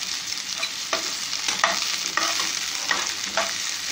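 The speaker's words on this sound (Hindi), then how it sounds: "प्याज के साथ साथ ही आप लहसुन डालते रहेंगे इसको बीच बीच में चलाते रहेंगे" Close, steady sizzling of onion and garlic frying in a pan, broken by repeated scraping stirs at a regular pace, with no talking.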